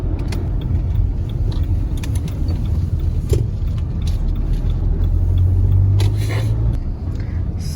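A car rumbles steadily through a city centre in Maastricht on the way to park, with a continuous low road and engine drone and small rattles and clicks from inside the cabin.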